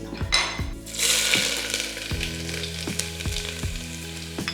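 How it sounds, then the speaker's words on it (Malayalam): Mustard seeds spluttering and popping in hot oil in a pan, with dense sizzling and a run of rapid sharp crackles close up, no voices. "ശകലം കടുകിട്ട് പൊട്ടിക്കാം"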